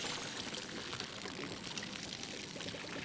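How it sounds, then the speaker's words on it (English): Water pouring steadily as crops are watered in the game Palia, a continuous close splashing gush like liquid poured from a bottle, loud and unbroken with no talk. "You can even hear it like it's pouring from a bottle."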